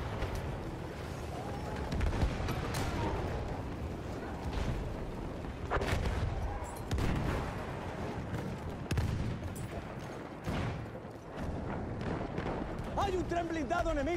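Explosions and gunfire in the World War I shooter game Battlefield 1, repeated heavy blasts and rumbling artillery booms over a continuous battle din, with shouted voices in the mix.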